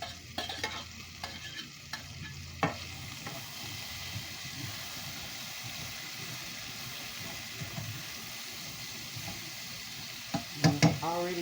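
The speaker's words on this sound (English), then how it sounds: "saute these vegetables in this oil. Then just stir them around." Vegetables sautéing in oil with steady sizzle and repeated scraping strokes of a utensil stirring the pan, with a few louder clatters near the end, close and moderately loud.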